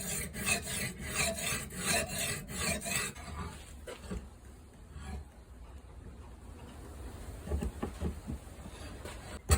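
Knife blade scraped repeatedly across a 1200 grit fine EZEsharp sharpening stone, a steady rhythmic rasping of close strokes that is loud at first, then softer and more scattered.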